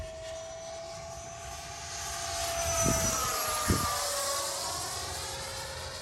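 A small RC sport jet, an E-flite Viper or Freewing Avanti, passes across an open field with a rising whine that swells toward a close pass and then fades away.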